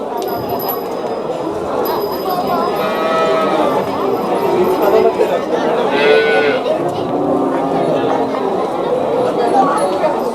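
Calves of native desi breeds and other cattle at a livestock fair low now and then amid a busy crowd, with people talking close by throughout.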